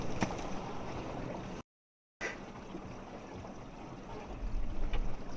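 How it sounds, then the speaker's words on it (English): River water rushes and gurgles around and into a car that has crashed into a river, a loud, steady churning wash with a brief cut to silence partway through. "The water's coming into my car."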